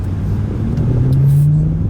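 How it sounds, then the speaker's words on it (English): A BMW E92 M3 with its 4-liter S65 V8 and individual throttle bodies runs close by, a deep, steady rumble that swells slightly as the revs rise near the end. "So, BMW E92 M3, 4-liter S65 V8, independent throttle body,"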